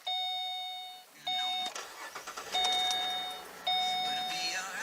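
Warning chimes beep repeatedly before a Pontiac G8 engine cranks briefly, catches and settles into a low idle, with the beeping tones continuing over the running engine.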